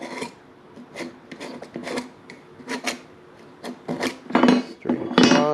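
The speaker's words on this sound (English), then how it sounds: "we're just going to scribe our marks here." A hand scribe scratching marking lines onto metal during an LS engine swap, a series of short, sharp scraping strokes in irregular bursts, close and fairly quiet, growing a little louder toward the end.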